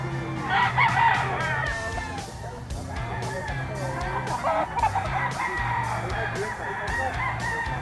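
A spangle gamecock at a grotto crows and clucks close by, one strong crow followed by repeated clucks, with someone speaking over it and other fowl noises in the background.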